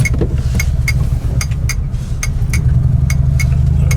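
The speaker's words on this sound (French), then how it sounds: "on entend encore bien la centrale clignotante" Steady, regular ticking of a Panhard PL17's hazard light flasher unit, evenly spaced clicks over a low engine idle rumble.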